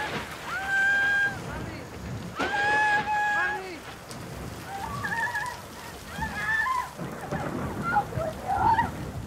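Heavy rain pours down outdoors in a steady, dense hiss that holds throughout, while voices call out over the downpour.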